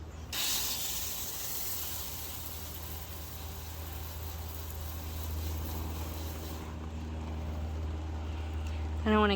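A garden hose sprays water onto freshly sown soil in a tight garden bed, a steady close hiss that starts abruptly and runs for several seconds before easing off.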